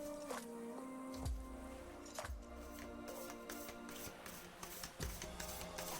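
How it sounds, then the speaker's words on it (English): A deck of matte-finish Witches' Wisdom tarot cards is overhand shuffled, giving soft papery slides and light flicks in an uneven rhythm. The shuffling is close but quiet, with a faint steady hum behind it. "Ooh, very nice overhand shuffle."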